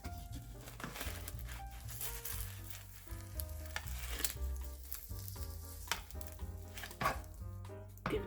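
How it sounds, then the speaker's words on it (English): Milo lava toast fries in vegetable oil in a wok, a quiet sizzle with occasional clinks and scrapes, set under louder background music. "we are going to fry these one at a time for a couple of minutes on each side"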